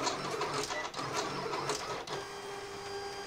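A Silhouette cutting machine slices cardstock with a steady whirring motor hum and quick buzzing carriage passes, joined by faint clicks, continuous and close with no talk.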